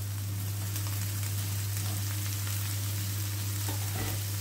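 Sliced sausage sizzles and fries in a pan in a steady, dense crackle, close and fairly quiet, with a low constant hum underneath and no talk.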